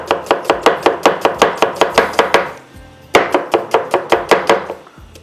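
An onion is chopped with a knife on a cutting board in quick, even strokes, two close, crisp bursts of rapid thuds separated by a short pause, with no talking.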